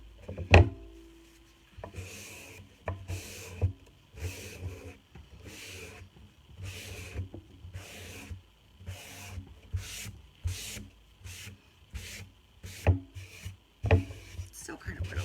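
Paint rag wiping color wash stain back off a wood surface, a run of soft rhythmic rubbing and scrubbing strokes with small knocks, close and fairly quiet.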